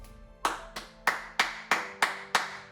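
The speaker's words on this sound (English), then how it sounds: "Please give these fellows a round of applause" Single pair of hands clapping seven times in a slow, even rhythm, close and crisp with short decays, offered as applause during a virtual nursing awards ceremony.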